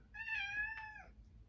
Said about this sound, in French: Oui, monsieur le chat.